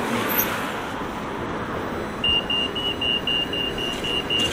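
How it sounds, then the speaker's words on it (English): Steady roar of road traffic on a city street in Sheffield limited to buses, with engines rumbling past continuously and a thin electronic beep or whine joining partway through; no talking. "it sounds like the buses rather than the cars."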